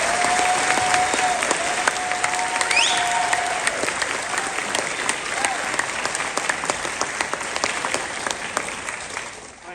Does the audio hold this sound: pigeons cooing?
no